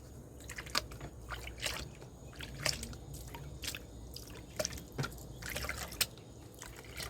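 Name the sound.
water washing black sand in a gold pan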